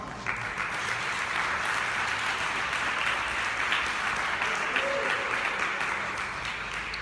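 A church congregation applauds with a sustained burst of clapping that holds at a steady level for several seconds, filling the room at moderate volume.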